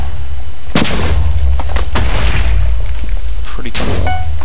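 Bombs go off in a Minecraft Bomberman match, giving several loud, sharp booming bursts with rumbling low thuds spread across the moment.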